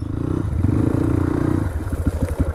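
A motorcycle engine runs with a steady low hum, then sputters and knocks unevenly, close by.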